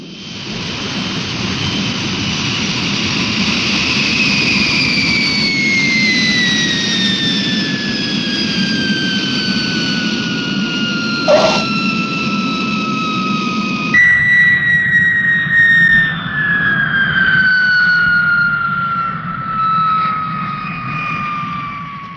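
A jet aircraft in flight roars steadily and loudly throughout, with descending engine whine tones gliding down over the course of the pass and a brief sharp interruption midway.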